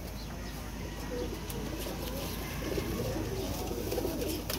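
Pigeons kept by a fancier for a flying competition, soft cooing heard against a steady background hiss with no voices.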